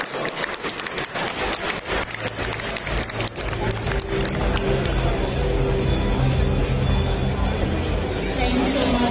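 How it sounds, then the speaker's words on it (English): An audience at a Team Canada trade mission event in the Philippines claps in a dense, continuous wash of applause mixed with crowd chatter, sustained and fairly loud throughout. "I'm so energized by the applause."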